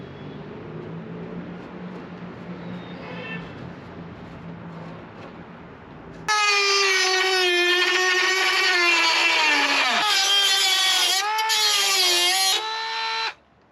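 A Dremel cutting disc slices into a Jeep JL body panel to fit a Flowmaster Delta Force snorkel, its loud high-pitched whine holding steady for several seconds after a lower rumble, then dipping briefly as the load shifts.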